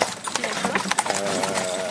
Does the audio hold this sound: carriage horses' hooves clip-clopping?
yes